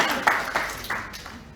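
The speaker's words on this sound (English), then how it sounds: "I want you to give yourselves a little clap." Participants at a sexual health training session give themselves a brief round of clapping, a few distinct claps standing out close by over a soft room background.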